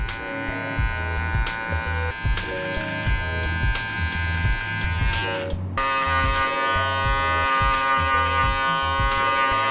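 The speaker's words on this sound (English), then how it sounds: "just come back in with your trimmer and retouch it up a little bit." An electric beard trimmer buzzes steadily and up close, its hum shifting in pitch partway through as it is pressed against the beard, with no speech.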